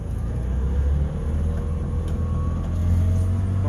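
A smoky two-stroke, two-cylinder engine runs steadily at a low, droning rumble, close and continuous with slight swells in loudness and no talking.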